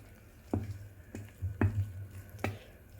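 Fermented batter of moong dal with bajra and ragi is stirred in a bowl: four soft, wet squelching strokes spaced about half a second to a second apart, close and fairly quiet.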